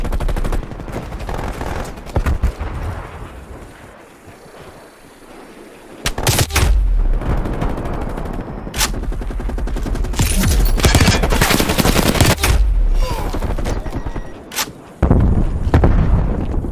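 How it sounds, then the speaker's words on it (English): Sentry turret gunfire in Call of Duty Black Ops Cold War, a Hardpoint match on the Satellite map: loud bursts of automatic fire and sharp shots, with a quieter lull early on, then dense sustained volleys that continue almost to the end. "Hostile sentry turret active."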